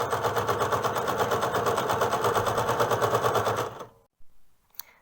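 A sewing machine stitching through fabric for a single-layer hood runs in a steady, fast rhythmic chatter for several seconds, then stops abruptly, leaving a couple of faint clicks in near silence.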